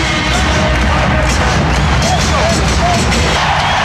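A basketball arena crowd at a 1993 NBA playoff game, Western Conference Finals Game 7, cheering and roaring as a dense, steady wall of sound with a commentator's voice talking over it.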